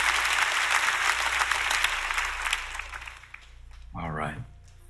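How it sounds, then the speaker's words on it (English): A church congregation bursts into loud, sustained applause that fills the hall, then gradually fades as a voice speaks over the tail end. "Clap your hands if you're ready for what the Lord is going to speak to you today."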